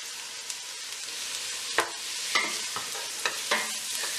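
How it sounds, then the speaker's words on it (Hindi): Mushrooms and garlic sautéing in a pan over a medium flame, with a soft steady sizzle and several distinct scraping stirs of a spoon, close and clear with no talking. "अब हम इन्हें मीडियम फ्लेम के ऊपर चमचा चलाते हुए इतनी देर भुनेंगे, यानी कि सॉटे करेंगे"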